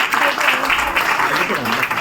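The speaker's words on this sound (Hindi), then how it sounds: "एक बार जोरदार जबरदस्त तालियां" Brief, steady burst of audience applause at a motivational business event in Ghaziabad, with a voice speaking over the clapping.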